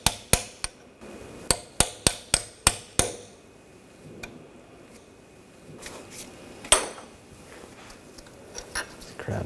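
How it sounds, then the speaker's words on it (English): A chisel is hammered against a rusty snap ring on the rear lower ball joint of a 2000-2006 BMW X5: about eight sharp metallic strikes in quick succession, then quieter clatter and a couple of later taps. "We're just going to use a chisel. Just try to pop it off."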